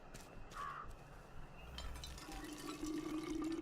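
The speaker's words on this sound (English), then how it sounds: "Here's a water pump." A water pump filling with water in the video game We Happy Few: a steady, rising liquid pour that begins partway through and grows louder toward the end, with a brief tonal blip earlier.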